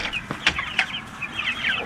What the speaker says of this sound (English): Those are some hardy chickens.